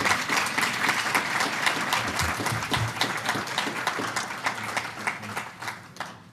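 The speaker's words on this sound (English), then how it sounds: "Can we start with a round of applause for our amazing MCs?" A ceremony audience at a volunteer awards event applauds the MCs, dense sustained clapping filling the hall at steady loudness and slowly thinning toward the end.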